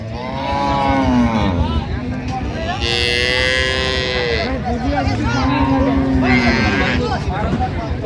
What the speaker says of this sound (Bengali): বেশ সুন্দর গাভী বাছুর আমরা দেখছিলাম এখানে